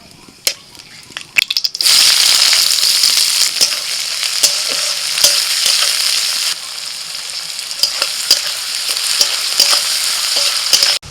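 Whole spices, cardamom, cinnamon and cloves, hit hot oil in a wok with a loud, steady sizzle that bursts in abruptly after a couple of quiet seconds, with scattered spoon clicks and stirring scrapes throughout.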